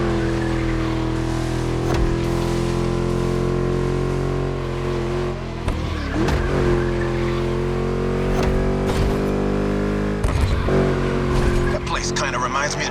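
A V8 engine revs loud and close during a lap in The Crew Motorfest racing game, steady roaring drone with shifting pitch, brief tire squeals and sliding, while a voice talks over it.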